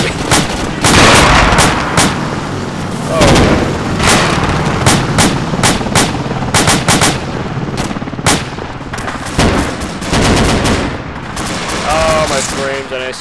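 Rapid gunfire from a military shooter game, Arma 2, in an urban insurgency match: dense bursts of automatic shots and sharp single cracks fill the scene continuously, loud and close, with brief voice chatter between volleys.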